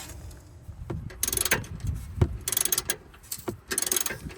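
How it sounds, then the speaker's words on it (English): Ratchet clicking in short bursts while the sway bar bushing clamp on a Subaru Outback is tightened, with metallic clanks and knocks in between, close and moderately loud, no voices. "the next step is to put on the bushing clamp and tighten things up"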